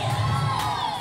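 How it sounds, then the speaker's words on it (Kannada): A crowd gathered in front of the SLN temple for a Gicchi Giligili show cheers and shouts in a brief loud burst, close and dense, with no clear separate claps. "ಎಲ್ಲರೂ ಬರಲಿ, ಜೋರ ಚಪ್ಪಾಳೆ."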